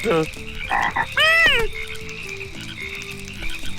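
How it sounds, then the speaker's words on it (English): A frog in the video game Ty the Tasmanian Tiger croaks in a few quick, bright warbling calls near the start, set over a steady game soundtrack with a sustained tone and soft plucked notes. "Wait, that was also just a frog."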